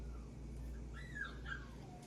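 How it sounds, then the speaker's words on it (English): A dog left alone whimpers and cries in thin, rising and falling whines, fairly faint and somewhat distant, with no one talking. "Don't mind my dog crying because he's alone right now."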